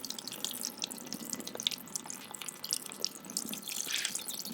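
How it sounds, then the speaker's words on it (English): Water poured by hand into a hole to form a small model pond, a steady close trickling and splashing that runs evenly throughout with no talking. "So I'm adding some water right here."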